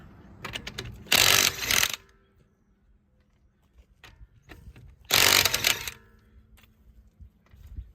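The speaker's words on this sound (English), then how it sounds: "I've got a cordless impact gun, and I've got a 3/4 socket. I'm going to take these lug nuts out." A cordless impact gun with a 3/4 socket rattles off rear-wheel lug nuts in two short, loud bursts about four seconds apart, with quieter clicks and handling noises in between.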